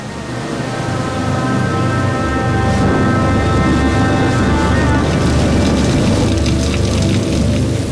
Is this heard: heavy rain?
yes